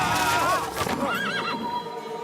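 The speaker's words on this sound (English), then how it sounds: "Our horses! They're coming back to rescue us!" Cartoon horses in the animated series Yakari neigh and whinny loudly while their hooves gallop closer, with several overlapping calls over about two seconds.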